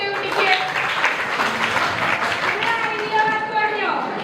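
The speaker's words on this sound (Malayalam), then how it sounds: "ക്ലാപ്പ് കൊടുത്തു കുട്ടിക്ക്." Classroom applause for a student: a dense, steady patter of many hands clapping at close range for several seconds, with voices of the pupils mixed in underneath.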